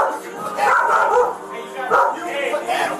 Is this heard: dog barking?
yes